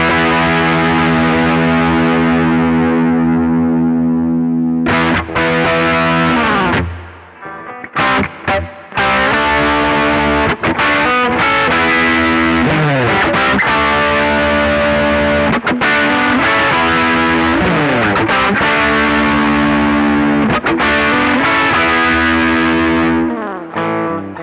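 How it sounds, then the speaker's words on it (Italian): An electric guitar is played through a high-gain distorted channel of a brown30 custom amp from JD Stomps, with loud, saturated, sustained chords and riffs, a brief pause near the middle, then dense chugging and ringing power chords. "abbiamo il suo canale distorto che vi ho fatto sentire prima con un high gain"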